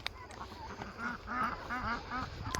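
Ducks being driven by a herding dog on a farm, quacking and honking in a repeated series of nasal calls at close range, with no talk over them.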